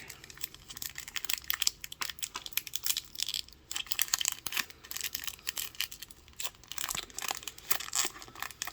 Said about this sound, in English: Running into that sticker slows down the tearing of the pack.